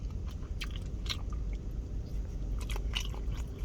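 Someone chews a slice of thick marbled Butcher brand bacon up close, soft crunchy bites and wet mastication repeating irregularly over a low background hum.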